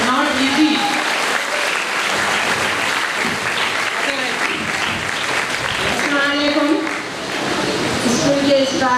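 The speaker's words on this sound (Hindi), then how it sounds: "जरा और जरा जोरदार तालियां ना" Audience applause at a high school award function, steady dense clapping sustained throughout, with children's and adults' voices talking over it.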